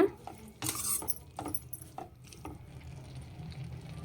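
A metal spoon scrapes and clinks against a pan while cabbage curry with water is stirred, with a few sharp clatters early on and softer scraping and bubbling after, close and fairly quiet.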